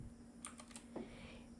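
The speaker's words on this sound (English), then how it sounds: "the keyboard shortcut is just press Ctrl Shift V" A few quick, light clicks of computer keyboard keys pressed for the Ctrl Shift V shortcut in Outlook, faint and close, with no talking.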